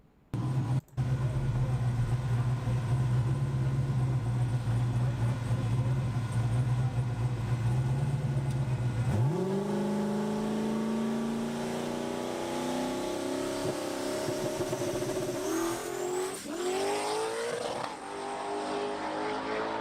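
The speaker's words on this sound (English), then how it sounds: "Oh, and I hit the rev limiter." A car engine drones loudly at a steady pitch, then shifts and climbs in revs, rising sharply toward the rev limiter near the end. The sound is continuous and close.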